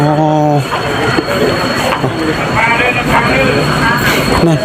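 A Laos-China high-speed train at Na Teuy station, heard as a steady loud rumble of rail noise beneath continuous voices talking nearby, with tonal hum and bursts of speech throughout.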